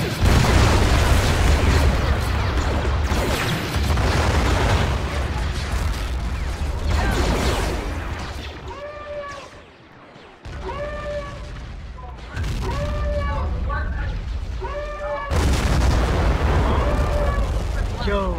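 Dense gunfire and booming blasts from a Star Wars video game battle on Crait, with stormtroopers assaulting rebel defenses; heavy continuous barrage of shots and explosions runs throughout, with a voice speaking over it in places.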